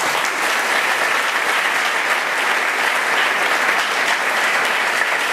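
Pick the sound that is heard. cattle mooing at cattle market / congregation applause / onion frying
congregation applause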